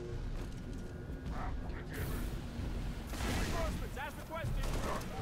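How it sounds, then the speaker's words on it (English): Railgun shots and other weapon fire in Halo 3 Firefight on the Sandtrap map, modded with Halo Wars units, come as several sharp bursts over a busy battle din, with some talk throughout. "let's try the railgun"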